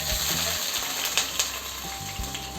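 Cumin and onions fry in hot oil in a pan for a soya chunk curry, producing a soft continuous sizzle with a few light stirring clinks.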